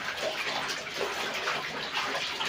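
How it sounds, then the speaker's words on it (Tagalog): Cross stitch pieces go into clean water for washing, a steady close splashing and sloshing wash of water that runs throughout, with no talk. "lalagay na natin sa tubig."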